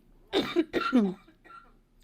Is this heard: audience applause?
no